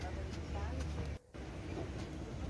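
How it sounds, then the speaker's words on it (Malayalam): Moving train heard from inside a carriage on the Kottayam to Kanniyakumari route: a steady low rumble and hiss of the running train, fairly faint, with a brief dip midway. "ട്രെയിൻ ഇങ്ങനെ പോവുകയാണ്."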